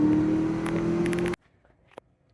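A 2008 Cadillac XLR-V pulls from a 15 mph roll, its engine note droning loud and steady before cutting off abruptly, leaving near silence broken by a faint click.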